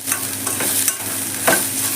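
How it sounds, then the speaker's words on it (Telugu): Sliced onions and finely cut ginger fry steadily in a pan on the stove, giving a loud, continuous sizzle with occasional crackles and stirring scrapes and no voices. "ఇంకా ఒక 2-3 నిమిషాలు అలాగే వదిలేస్తే ఇంకా కాస్త వేగుతున్నాయి అన్నమాట"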